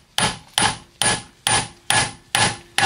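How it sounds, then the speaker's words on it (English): A crankshaft seal is tapped into a Jeep timing cover with six evenly spaced, sharp hammer taps that ring briefly, loud and close, with no talking. "tap it gently, make sure it's straight, and then all the way until it seats"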